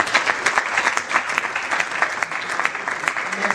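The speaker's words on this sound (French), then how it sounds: "dans cet élan d'applaudissements" Audience applause at a book launch ceremony, a steady run of many hands clapping with individual claps audible, moderately close and continuing evenly with no speech over it.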